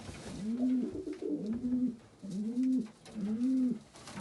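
Pigeons coo close by in repeated soft, throaty phrases, about four rolling calls overlapping at a relaxed rhythm, with faint background noise.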